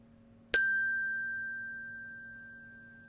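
A mindfulness bell struck once, a clear bright ring that decays slowly into a long sustained tone against near silence.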